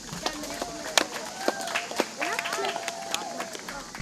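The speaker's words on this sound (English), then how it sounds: "So let's give our judges a round of applause." A small audience at a 4-H gardening program event applauds the judges with scattered, uneven claps over a few seconds, with people talking throughout.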